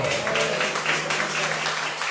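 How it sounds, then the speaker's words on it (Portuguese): A church congregation claps in praise during a Portuguese-language sermon, a soft, fairly steady patter of hands heard at a modest distance with a faint sustained tone underneath. "Aplaude ao Senhor, aleluia."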